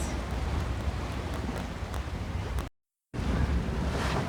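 Steady strong wind and rushing waves while sailing between Dominica and Guadeloupe in the Caribbean in about 18 knots of breeze, a continuous close roar with buffeting on the microphone and a brief dropout near the end.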